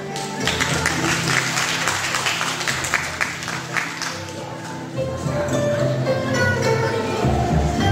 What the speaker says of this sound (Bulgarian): Овации за нашите по-големи състезатели